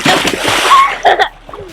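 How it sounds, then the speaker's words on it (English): A child sliding down into water lands with a loud splash followed by sloshing, close by, with people talking and exclaiming around it. "What a splash!"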